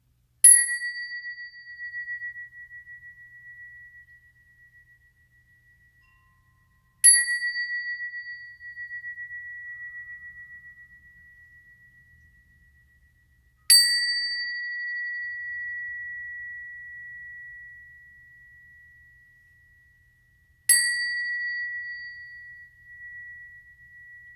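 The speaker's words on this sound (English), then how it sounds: "I'm going to ring some bells." Four clear bell strikes spaced evenly apart, each a bright pure ring that slowly fades into silence before the next.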